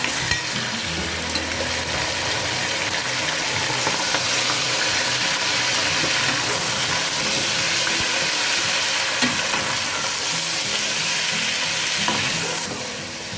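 Chicken hitting a hot pot of oil with green chillies for yakhni pulao, a loud continuous sizzle and fry that holds steady, with light stirring, and no talking.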